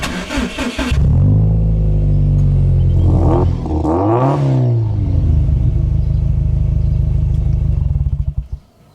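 A car engine starts up and revs loudly, rising and falling through two strong bursts of throttle before settling into a steady, close idle, with no one talking.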